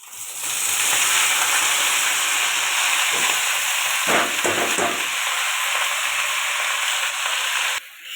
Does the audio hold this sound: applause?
no